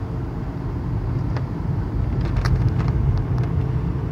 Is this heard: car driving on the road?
yes